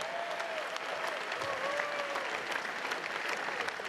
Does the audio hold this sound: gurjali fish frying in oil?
no